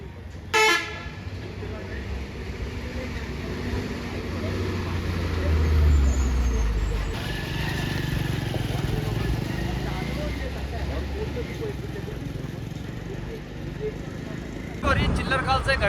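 Road traffic at a rally protest, with a sharp horn blast at the start and another near the end over a steady roar of passing cars and buses; people talk underneath.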